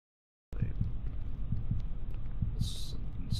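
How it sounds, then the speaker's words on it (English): A steady heartbeat monitor pulses through a dark scene in the video game Backrooms: Escape Together, its low thumps repeating at an even pace over a faint background hum, with a brief higher tone near the end. "They had to add a stupid heartbeat monitor too"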